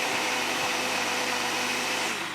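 A small blender whirs steadily at close range, blending frozen banana slices, Greek yogurt and coconut milk, a continuous even motor drone with no talking.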